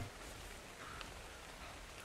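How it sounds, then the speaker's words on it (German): Steady rain in the survival game ARK Survival Evolved, a dense, even hiss of falling drops with faint pattering, constant and moderately quiet throughout with no talking. "Ich bin im Regen."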